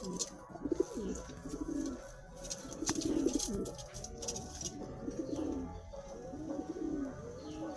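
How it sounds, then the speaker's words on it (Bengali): A mated pair of Giribaz pigeons coos repeatedly at close range, in rolling low phrases that rise and fall over several seconds, with no talking. "পায়রাগুলোর কোয়ালিটি দেখুন"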